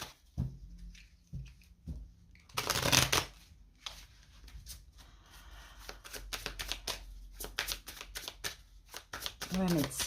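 Tarot cards riffled and shuffled in several quick bursts during a reading, crisp papery flutters with soft handling sounds between them.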